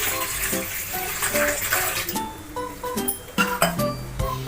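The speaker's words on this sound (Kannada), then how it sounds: "1 ಇಡ್ಲಿ ಕುಕ್ಕರ್ ತಗೋಬೇಕು. ಅದರಲ್ಲಿ ನೀರು ಹಾಕಬೇಕು." Water poured into an idli cooker while steaming rice-flour modaks, a splashing, burbling pour with metallic clinks of the vessel, close and uneven in bursts.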